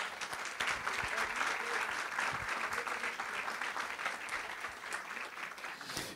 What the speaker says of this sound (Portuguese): Merecemos palmas.